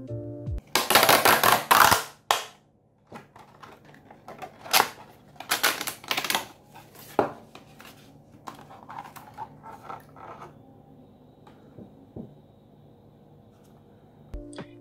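Unboxing a Logitech M171 wireless mouse package: close crinkling plastic and cardboard rustles, tearing and tapping clicks in irregular bursts, loud at first then sparser and quieter, with no talking.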